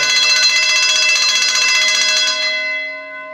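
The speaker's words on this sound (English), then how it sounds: "the water that's activates flowing is going through a pipe into the water gong, and Yes. it's ringing that bell?" A water-driven sprinkler gong bell rings rapidly and steadily as water flows through it, then its loud metallic clatter fades out as it stops.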